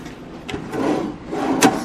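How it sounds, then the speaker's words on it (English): Kitchen drawers in a Kona Coast resort room slide and thump open and shut, with a couple of brief wooden rubs and knocks, close and fairly quiet with no talk. "Some extra drawers."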